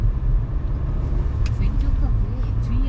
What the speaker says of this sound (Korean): 간단하게만 제가 시운전 시작해 보도록 하겠습니다